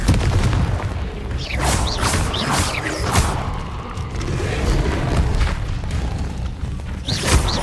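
Confringo fire-blast spell in Hogwarts Legacy gameplay, a run of loud booming bursts and crackling impacts layered over dense game effects, with a sharp fresh blast near the end.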